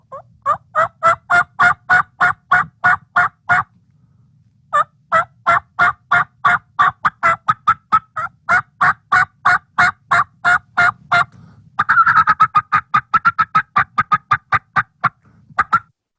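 Turkey calling sounds of cutting, clucking and gobbling, a fast run of loud, sharp repeated notes with a brief pause, then a denser rattling burst, close and alone.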